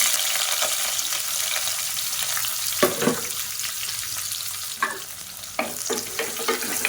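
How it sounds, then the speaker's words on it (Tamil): Sliced onion sautés in a pan with whole spices such as fennel seeds, giving a steady, moderately loud sizzle broken by several sharp scraping stirs of a spoon against the pan. "இப்போ பாருங்கள், வெங்காயம் நல்லா வதங்கிருச்சு."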